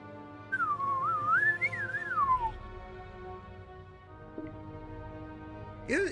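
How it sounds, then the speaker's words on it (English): A person whistles a short wavering melody that rises and falls for about two seconds. A brief higher whistle chirp follows near the end, and the room is otherwise quiet. "I can't whistle well."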